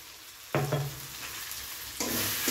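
Ground cumin, coriander and chili powder sauté for a jackfruit and prawn curry, a low sizzle that jumps louder with each stir, two sharp bursts of frying noise a moment apart.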